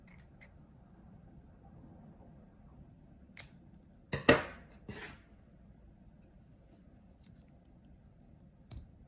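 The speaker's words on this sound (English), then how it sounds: "then you just cut the stragglers off" Scissors snipping excess string ends off a beaded kandi cuff, a few quiet close snips against near silence.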